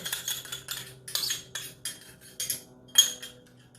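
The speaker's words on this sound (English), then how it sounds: "And we're going to mix this up, and that's going to be our marinade." Garlic, brown sugar and minced ginger are mixed into a salmon marinade, with a utensil clinking and scraping against a bowl in a steady series of close, bright taps and swishes.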